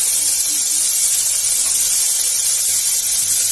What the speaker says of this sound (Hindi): अब यहीं पे टमाटर डाल रही हूँ और टमाटर को तब तक भूनेंगे जब तक टमाटर सॉफ्ट ना हो जाए